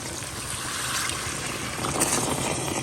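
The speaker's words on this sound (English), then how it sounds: "And then I'm going to add some water." Water pours steadily into a pot of chicken and ginger for curry, a continuous splashing trickle, fairly quiet and alone.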